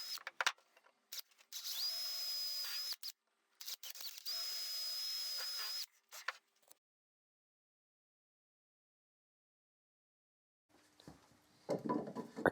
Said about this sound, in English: so I first drill pilot holes.